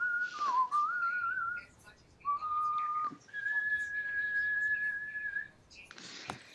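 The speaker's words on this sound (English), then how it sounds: "Are you whistling?" A person whistles Amazing Grace as a slow, sustained melody, with long held notes and brief pauses between phrases, close and clear.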